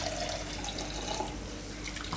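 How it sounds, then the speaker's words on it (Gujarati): Water streams steadily into a pan of paneer and broccoli curry, making a continuous, fairly quiet pouring and splashing wash that lasts the whole moment, with no voices. "થોડુંક એમાં પાણી નાખીશું"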